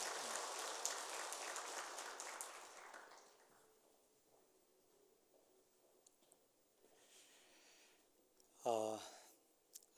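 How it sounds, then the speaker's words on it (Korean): Congregation applause at a Korean church worship service, a dense burst of clapping at first that thins and fades out within a few seconds, leaving a quiet room with a brief soft sound near the end. "우리 박수로 격려하겠습니다."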